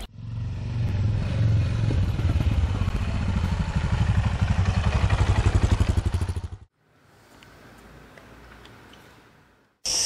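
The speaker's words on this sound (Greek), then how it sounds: "Πανέμορφη enduro μοτοσυκλέτα. Πρόσεξε, enduro, όχι adventure, enduro μοτοσυκλέτα." Enduro motorcycle engine running loudly and steadily for several seconds with a dense mechanical rumble, then cutting off abruptly into a much quieter, softer stretch before a brief loud burst returns at the very end.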